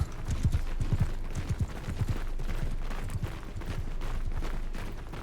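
Hooves clip-clop in a quick, irregular rhythm from a horse in Mount & Blade 2: Bannerlord, thudding at mid distance over a steady battlefield rumble, with a few sharp clatters mixed in.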